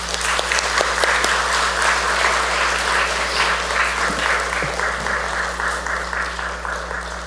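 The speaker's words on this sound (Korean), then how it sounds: "우리 목사님, 사모님 21년 동안 수고 많으셨습니다. 박수 한번 드릴까요?" A church congregation applauds the retiring pastor and his wife at a retirement and installation service, steady full clapping from many people over a low constant hum.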